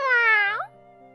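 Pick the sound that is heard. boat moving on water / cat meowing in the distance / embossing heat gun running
cat meowing in the distance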